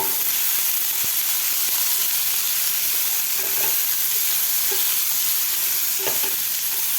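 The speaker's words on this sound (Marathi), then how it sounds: "व्यवस्थित आपल्या खालच्या मसाल्यामध्ये आपल्याला हे व्यवस्थित परतून घ्यायचा आहे भोपळा" Pumpkin pieces being stir-fried in a fried ground masala, producing a dense, loud, steady sizzle and hiss close up, with occasional faint spatula knocks against the pan.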